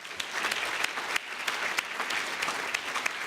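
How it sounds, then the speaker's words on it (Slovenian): Audience applause at a citizens' dialogue event, a sustained dense burst of many hands clapping together, fairly close and even in level throughout, with a few sharper individual claps standing out. "Še en aplavz."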